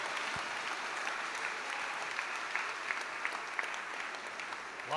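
A church audience in Martinique applauds and cheers for Jesus at a healing service, with steady, dense clapping that continues through the whole stretch with scattered louder claps.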